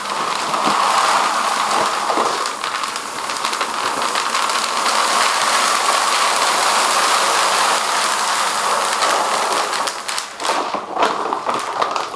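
Dry beans pour into a storage container in a continuous rattling, pattering rush of small hard pieces, close and fairly loud, thinning toward the end.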